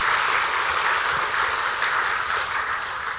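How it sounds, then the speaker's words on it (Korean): Church congregation applauding during a Sunday worship service, a dense, steady burst of clapping from many hands that fades slightly toward the end. "우리 위로 격려 축하의 박수."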